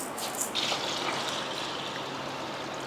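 Water poured over soaking fenugreek seeds and grains for washing, a steady close gushing splash lasting a few seconds.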